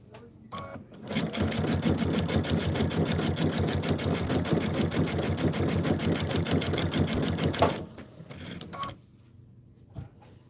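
A sewing machine stitches a June Tailor Casablanca placemat, running in one long continuous burst of rapid, rattling needle strokes, loud and close, then stopping, leaving a few soft handling clicks.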